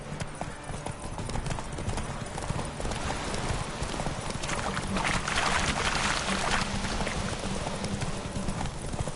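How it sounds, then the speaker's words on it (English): Hooves of a horse gallop steadily across ground in The Witcher 3, a loud, continuous rapid clip-clop rhythm close up, with game ambience layered beneath throughout. "Run, Roach."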